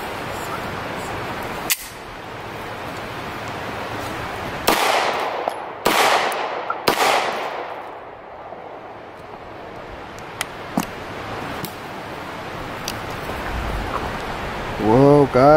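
A Beretta 92S pistol with a fault fires four sharp, loud shots at irregular intervals, then a couple of fainter pops, over a steady outdoor background hiss.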